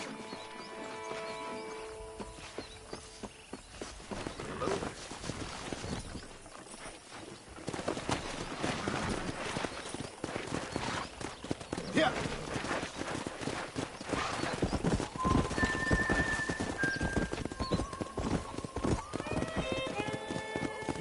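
Wild horses gallop and whinny in the Red Dead Redemption video game: rapid clip-clop hoofbeats build to a loud, continuous drumming, with several shrill neighs breaking through near the end and birdsong faintly at the start.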